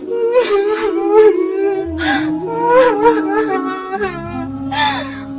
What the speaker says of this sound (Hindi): टुनटुनी की रोने की आवाज सुनकर रानी चिड़िया वहाँ आती है।